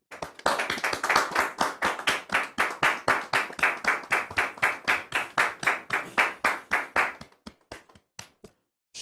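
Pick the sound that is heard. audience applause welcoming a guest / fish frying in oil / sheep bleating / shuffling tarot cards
audience applause welcoming a guest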